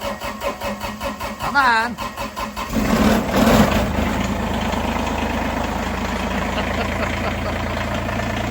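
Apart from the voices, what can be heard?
tractor diesel engine starting and idling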